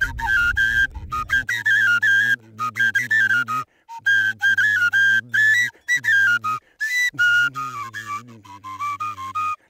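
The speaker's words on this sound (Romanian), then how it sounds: "Zi de zi, fluierul sună la fel." A shrill, breathy shepherd's fluier flute plays a lilting Romanian folk melody in short phrases with brief pauses, close and fairly loud, in a sunny meadow at Văratec.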